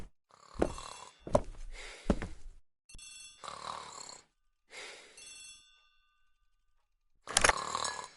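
A telephone bell rings in a hall, sounding in separate bursts with short silent gaps between, mixed with a few sharp knocks and clanks.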